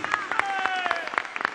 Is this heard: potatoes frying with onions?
no